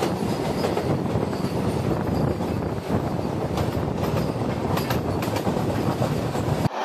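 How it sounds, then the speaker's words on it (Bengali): The Shalimar–Puri Sri Jagannath Express (18409) is running at around 79 km/h, heard as a continuous loud rumble with rhythmic clickety-clack of wheels over rail joints and occasional metallic squeals. "আমাদের ট্রেন তার ধুমধুমার ছন্দে ছুটে চলেছে পুরীর উদ্দেশ্যে।"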